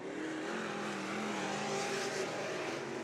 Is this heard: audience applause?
no